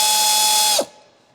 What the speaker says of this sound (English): 15mm deep socket with a pneumatic ratchet to remove the stabilizer link nut at the strut center.